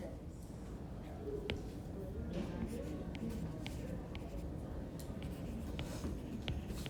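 Students write on paper, with soft scratchy pen or pencil strokes and rustling spread through a busy classroom where someone is talking.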